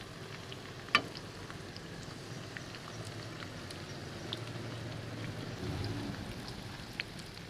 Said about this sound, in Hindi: उसको मैं तड़के के लिए फ्राई करूँगा।